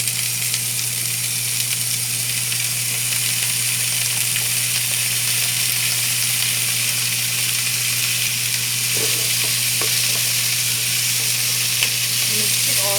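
Spring onion and sayote stir-frying in a hot pan for bangus steak, a steady close sizzle with a low constant hum underneath and a few light clinks of stirring near the end, no talking.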